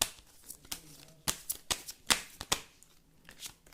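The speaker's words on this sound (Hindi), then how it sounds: "ये नहीं लेंगे, ये वाला कार्ड लेंगे" Tarot cards being shuffled and handled, giving a series of sharp, papery riffles and snaps with quieter rustling between them, close and fairly soft, with no talking.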